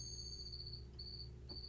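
Insect-like chirping played from app keys, resembling grasshoppers or crickets, with steady high-pitched tones that cut off briefly and resume, over a low background hum.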